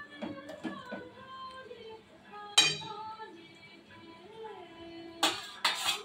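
Potato curry with big kham alu being stirred in a pot, then covered with a lid: a few sharp metallic clinks and one bright clatter of the lid landing, over quiet background talk.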